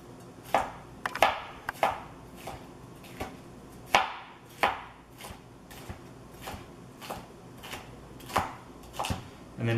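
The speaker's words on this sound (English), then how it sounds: "So let's cut it into strips." A knife chops a bell pepper into strips on a cutting board, sharp close knocks in an uneven, steady rhythm, with no talk.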